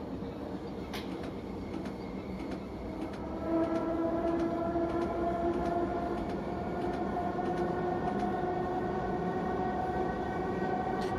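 A historic S-Bahn train running in Train Simulator Classic, a steady rolling rumble of the train with rhythmic clicks, then a rising motor whine with layered tones swelling in midway and holding, continuous with no voices.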